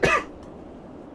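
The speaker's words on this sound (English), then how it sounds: "in celebration, I am going to cough." A single sharp cough bursts out up close at the start, then quickly fades into a quiet room tone.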